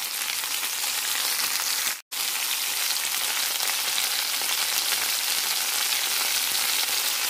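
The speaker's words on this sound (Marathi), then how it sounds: "आणि ही कैरी टाकणार आहे मी त्यात." Raw green mango pieces fry in a pan with salt, giving a loud, steady close-up sizzle that drops out for a brief moment and then carries on unbroken.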